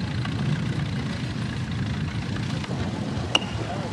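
Antique 1949 Shaw Dual Model R8 tractor moving along a parade route, a low steady engine rumble at moderate distance with a brief sharp click near the end.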